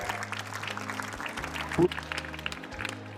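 Applause from a school alumni meet crowd honouring teachers, a steady patter of clapping lasting a few seconds, with voices and background hum underneath.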